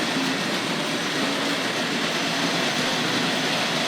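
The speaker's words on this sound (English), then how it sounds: "I can hear the railway children train coming around" Steady rumble of a Tri-ang Hornby model train running along a track at a model railway exhibition, continuous and fairly loud, with no voices.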